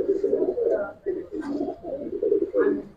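Giribaz pigeons cooing in a rooftop loft, a steady run of low, soft coos close by with brief pauses between phrases and no talk over them.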